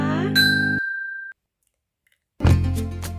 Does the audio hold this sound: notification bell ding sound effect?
yes